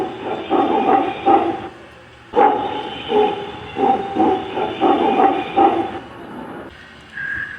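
Howler monkeys howl in loud, rhythmic bursts of deep, roaring calls from a museum exhibit recording, pausing briefly between groups of howls.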